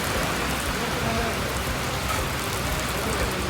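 Steady heavy rain falls at a roadside tea shop in Kerala, a dense continuous hiss of drops close by that lasts the whole stretch without pause.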